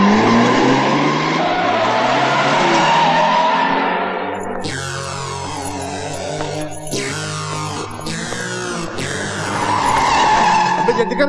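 Car skids around in a sharp turn with loud, repeated tire squeals in bursts, following a stretch of engine noise and shouting, in a Hindi film chase scene.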